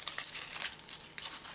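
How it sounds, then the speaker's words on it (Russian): Foil wrapping being peeled off a SpongeBob Kinder Surprise chocolate egg, a quick run of crisp close crinkling and crackling, with no voices. "Открываем первое яйцо."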